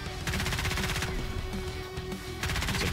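Sustained automatic gunfire from a mobile phone shooter game, a dense rattling burst running almost continuously with one short lull partway through, fairly loud and without talk.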